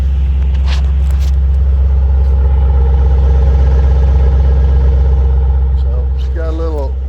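A 2007 Ford Mustang GT engine idles steadily as it warms up, a loud, deep and even rumble throughout, with a faint clatter and a voice briefly audible near the end.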